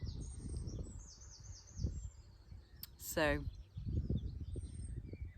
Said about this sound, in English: Oh, they're quite pretty, aren't they, the sounds of the birds?